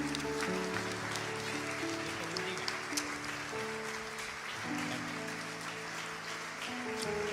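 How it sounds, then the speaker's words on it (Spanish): Church congregation clapping for the Lord, a soft, steady patter of many hands under sustained organ-like music chords, distant and fairly quiet throughout. "Denle un aplauso al Señor."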